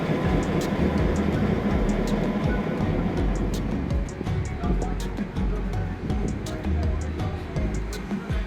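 Boone & Scenic Valley Railroad train engine idling at the boarding platform, a loud continuous rumble with clanking and sharp metallic clicks throughout, while people chatter nearby.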